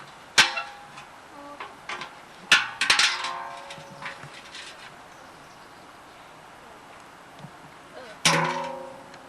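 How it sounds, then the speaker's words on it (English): A car wheel cover is pried off, giving a few sharp metallic clanks and pops spaced over several seconds with quiet gaps between them. "Pry off wheel cover."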